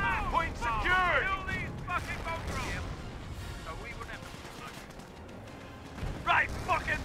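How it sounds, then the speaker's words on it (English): Artillery barrage in the World War II strategy game Company of Heroes: repeated heavy explosions and rumbling blasts over a dense battle noise bed, heard under an excited commentator's voice. "And here comes the actual barrage."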